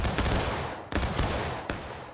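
An infantry company fires musket volleys in a video game, three loud close crashing bursts in quick succession, each ringing briefly over a steady rumble of battle.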